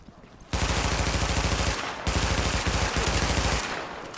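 Automatic rifle fire in The Division game: two long, loud sustained bursts of rapid shots, broken by a short pause near the middle, with no talk over them.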